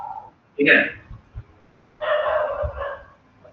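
A dog barks a couple of times in the background behind a person talking indoors, short sharp yaps followed by a longer whining bark.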